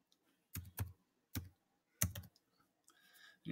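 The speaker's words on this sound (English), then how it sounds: "So if we just type in Pixlr." Typing on a computer keyboard, with a few quiet, separate keystroke clusters and short pauses between them, close up and isolated.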